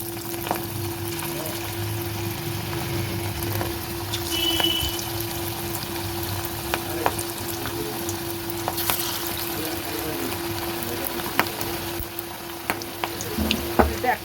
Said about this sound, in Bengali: তেল বসিয়ে দিয়েছি, তেলটা গরমও হয়ে গেছে। এবার আমি বাঁধাকপি পাতাটাকে আমি এভাবে ছেড়ে দেবো।